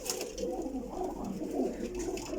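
Soft, low cooing of flying pigeons fills the scene, several birds overlapping in a steady murmur with no pauses.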